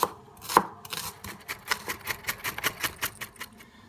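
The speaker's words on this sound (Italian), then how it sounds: "Tritare finemente lo scalogno." A knife finely chops shallot rapidly on a cutting board, a steady stream of quick, crisp taps close up.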